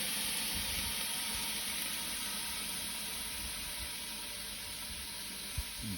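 Steam hisses steadily from broccolini and other vegetables in a stir fry on a Weber barbecue, a continuous moderate rush with one small knock near the end.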